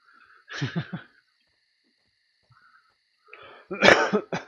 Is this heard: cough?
yes